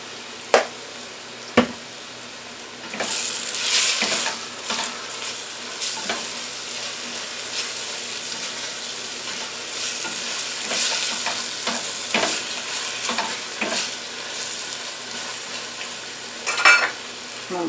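Chicken pieces frying in a pan with a steady, close sizzle, broken by a few sharp clicks and scrapes of stirring along the way.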